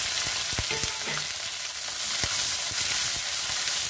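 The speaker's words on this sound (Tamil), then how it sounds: "நல்லா பொன்னரமாக வதக்கிக்கலாங்க." Onion, chili and curry leaves fry in a pan with mustard seeds and fennel, a dense steady sizzle with occasional spoon taps and scrapes, close and continuous.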